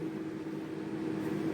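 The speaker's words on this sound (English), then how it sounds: "microwave's just about to ding" A microwave oven runs with a steady, close electrical hum and drone, with no other sounds over it.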